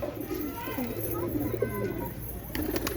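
Pigeons coo repeatedly at close range: low, throaty, rolling calls that run almost without a break over steady background noise.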